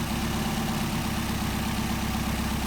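A car engine fitted with a Solex carburetor idles steadily on the test bench, a close, even low rumble with a constant throb and no other sounds over it.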